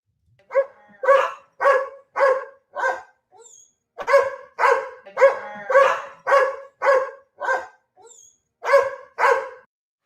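A goldendoodle named Dolly barking in a looped recording: a steady run of sharp, evenly paced barks in short bursts with brief gaps, close and clear with no talk over it.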